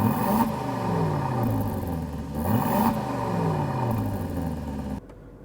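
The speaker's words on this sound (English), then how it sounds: "This button operates 3 different exhaust settings, and we'll play a clip of that here in a sec." A sports car's exhaust on its quiet setting rumbles through two rising revs and falls back each time. The engine sound is steady and moderately loud with no talk, then cuts off abruptly near the end.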